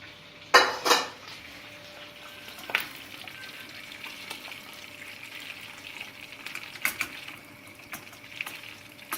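Butter melts and sizzles in a pan for iskender at home, a soft steady frying hiss with a few sharp clinks of a utensil against the pan near the start and later.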